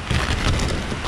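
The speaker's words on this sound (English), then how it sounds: "While it's raining, and y'all can't hardly hear us." Dense, steady rain pattering down outdoors, a loud close hiss with no gaps and no voices.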